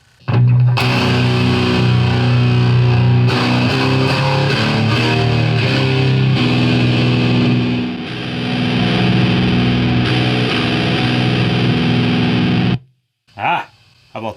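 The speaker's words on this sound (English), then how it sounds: "Overdrive channel, no hiss." Electric guitar played through the overdrive channel of a hand-built SLO clone tube amplifier: thick, distorted chords and riffs ringing loudly for about twelve seconds, then cutting off abruptly, followed by two short bursts of playing.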